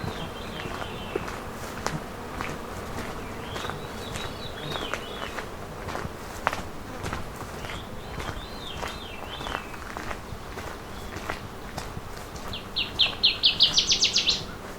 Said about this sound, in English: Here's our northern water thrush.